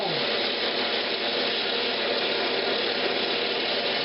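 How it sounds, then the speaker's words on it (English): Wood lathe spinning steadily while finish is rubbed onto a shadow box Christmas ornament, a continuous broadband whir and friction hiss at constant loudness throughout, with no voices. "you just get your lathe spun up, and you just apply it on"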